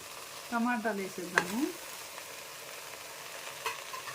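Brinjal fries quietly in a pan, a faint steady sizzle with a couple of brief squeaky, tonal scrapes early on.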